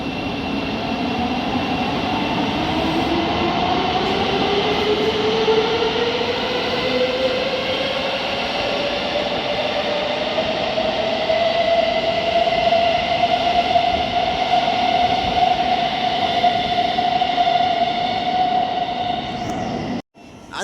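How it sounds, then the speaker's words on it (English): A Thameslink train departs St Pancras International, its motor whine rising steadily in pitch over a constant rumble of wheels and rail noise. The sound is loud, continuous and close, and stops abruptly at the end. "departing now on platform B is going to be your Thameslink service bound for St Albans City"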